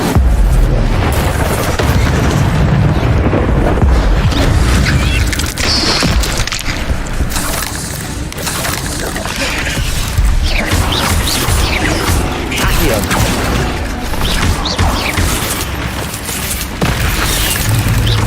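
Fire spell Incendio cast in Hogwarts Legacy during a fight with spiders, loud dense booming and crashing bursts with roaring flame-like noise continuing throughout, no talk.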